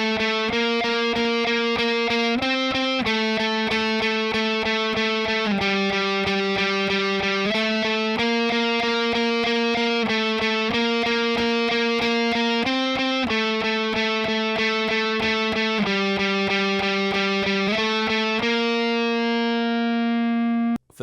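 Distorted electric guitar plays the intro riff of a song, a loud, repeating pattern of picked notes in even phrases, ending on a single held, ringing note with no talking.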